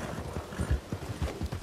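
Horse hooves clip-clop in a brisk, uneven gallop in the Red Dead Redemption video game, with heavy low thuds fairly close over a steady background rumble and no talk.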